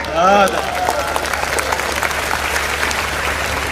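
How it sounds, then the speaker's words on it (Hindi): Audience applause at a Hindi poetry gathering, a dense burst of clapping that carries on steadily, with a brief voice at the very start. "तालियां कमजोर थी।"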